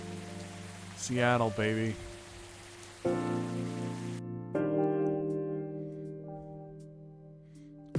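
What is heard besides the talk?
rain ambience in the video game Coffee Talk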